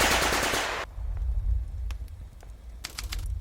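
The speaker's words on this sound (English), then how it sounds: "He and Big Body step forward and open fire with their Schmeisers" Schmeisser submachine guns fire in a battle sound effect, starting with a dense, loud burst that cuts off abruptly, then scattered distant shots and a later short rattling burst over a low rumble.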